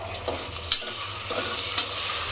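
A handful of mint leaves fries in a pan for chicken biryani, giving a steady close sizzle with a few sharp scraping stirs of a utensil against the pan.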